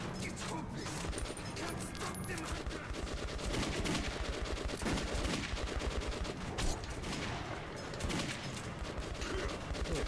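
Rapid gunfire in the shooter Metro 2033 Redux rattles in continuous automatic bursts and crashes, loud and close, mixed with game music and effects and no pause throughout.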